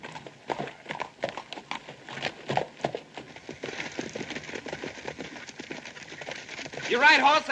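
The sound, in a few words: horse hooves clip-clopping in western movie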